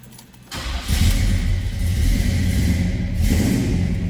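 A 1969 Oldsmobile Cutlass S Holiday Coupe cranks and fires, a brief starter whir giving way to a loud, steady idle rumble that settles in close and alone, with no voices over it.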